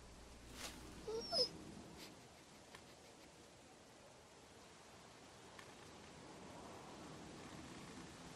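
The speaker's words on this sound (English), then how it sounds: "It's just a little dog." A small dog in The Walking Dead Season 2 video game whimpers in a few brief, soft cries early on, then fades into a faint, steady background hiss.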